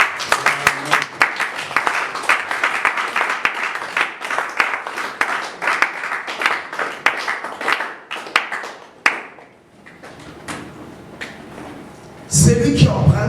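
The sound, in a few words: congregation applauding in acclaim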